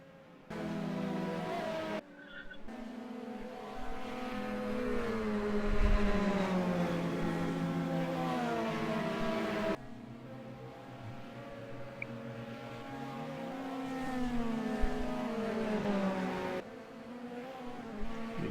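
IndyCar-style CART race cars from a 1988 Nazareth Grand Prix broadcast head into the pits, their engines droning and whining steadily with pitch shifts as they pass, fairly loud throughout with brief cuts between shots.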